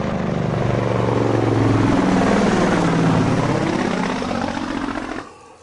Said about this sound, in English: Now you may not have seen a Jake brake before, but most likely you would have heard them before.